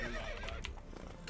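Roach, Geralt's horse in The Witcher 3, lets out a loud, close whinny with hoof clatter underneath, short and alone with no talk.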